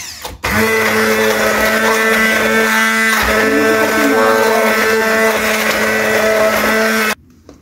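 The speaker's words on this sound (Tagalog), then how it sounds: "So, ito yung gagamitin kong pang food processor." A food processor whirs steadily at full power for about seven seconds, blending chicken masala paste with a loud, even motor hum that cuts off abruptly at the end.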